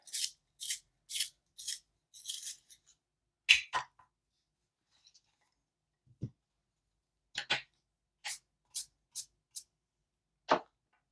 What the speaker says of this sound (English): Okay, next color is going to be the kelp green. I'm just going to sharpen mine.